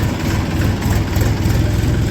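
A Massey Ferguson tractor engine idles steadily and loudly nearby, a continuous low rumble with no talking over it.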